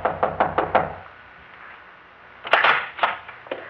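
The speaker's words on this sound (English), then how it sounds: "Try knocking." Knuckles rap on a door in two bursts, four quick close knocks first, then a pause and another irregular run of four or five knocks, in a 1964 radio drama scene.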